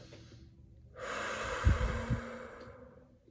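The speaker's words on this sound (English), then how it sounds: "breathing into your belly." A slow, deep breath drawn into the belly during a calming exercise for panic: one long, close, airy rush of breath that swells and then fades, with no talking.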